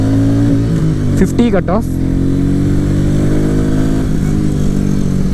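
A Royal Enfield Meteor 350 motorcycle pulls away in first gear on the road with a steady, loud engine drone that shifts pitch briefly. A rider talks over it for most of the time.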